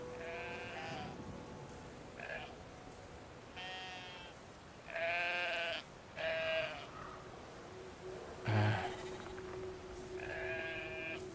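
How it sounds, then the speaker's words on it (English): Sheep in the video game Brothers: A Tale of Two Sons bleat repeatedly, several distinct wavering baas spaced across the stretch over a quiet ambient game background, with no talking. "Do we need this? The sheep?"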